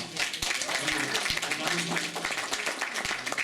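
A concert audience at a Christmastide performance applauds steadily, dense clapping sustained throughout while a speaker's voice continues over it.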